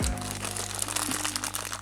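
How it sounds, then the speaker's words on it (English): Crinkling of a plastic bag being pulled open, as from a LEGO Super Heroes set 70872, continuous close rustle and crunch for about two seconds alongside a low steady hum. "Let's go ahead and open the plastic bag together"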